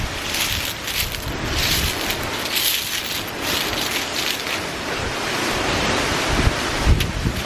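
Strong wind buffets the microphone on a windswept beach while surf rumbles and washes in continuously, loud and close, with gusts rising and falling throughout and no voices.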